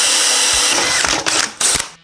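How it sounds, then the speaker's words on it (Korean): Power drill fitted with a dual-use bit boring a hole, a loud steady whine broken by a few sharp bursts as the bit grinds through, then cutting off abruptly at the end. "이번엔 Y전 제품으로 뚫어볼게요."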